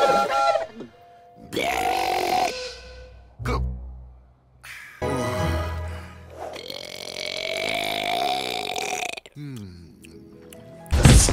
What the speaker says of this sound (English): Garfield will burp after he eats or drinks anything